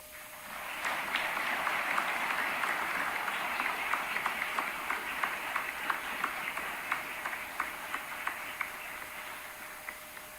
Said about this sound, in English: could you please give Lisa a round of applause